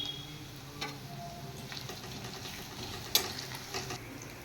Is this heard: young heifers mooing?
no